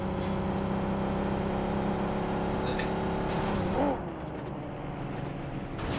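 Video game car race with engine drone held steadily and a brief passing swoosh near the middle, after which the motor noise drops slightly and continues at a constant level with no voices.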